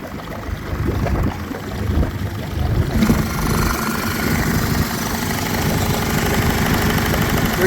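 A 2007 Evinrude E-TEC 60hp twin-cylinder DFI oil-injected two-stroke outboard runs steadily nearby, a low uneven idling rumble with knocking vibration that picks up slightly partway through and continues without talk.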